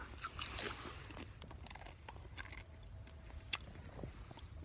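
Crunchy Doritos crisps being eaten outdoors at dusk beside a campfire on a walk in the Rhondda valley, South Wales, with close, irregular bites and chewing crunches over a steady low rumble of background noise.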